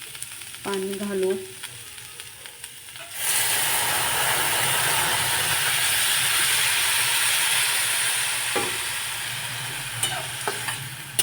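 Water goes into a hot pan of ghevda beans cooked with chili powder, setting off a sudden loud hiss that covers the earlier quiet frying and then settles into a steady bubbling sizzle with occasional light clinks.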